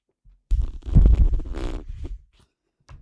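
A voice imitates a car driving past, a low rumbling, sputtering hum that swells and then fades out, followed by a brief soft sound.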